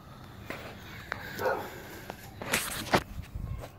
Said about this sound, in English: And now he's barking at the neighbor.